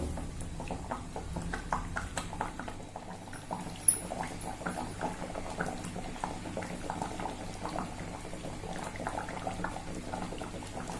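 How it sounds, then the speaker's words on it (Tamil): Thick mango curry bubbling and popping steadily in a pot, a continuous soft simmering with occasional louder plops. "இப்பதான் கொதிக்க ஆரம்பிச்சிருக்கு. இன்னும் கொஞ்சம் கூட கொதிச்சு நல்லா திக்காகட்டும்."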